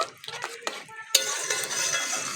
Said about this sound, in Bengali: ডালটাকে ভালো করে মিশিয়ে নেব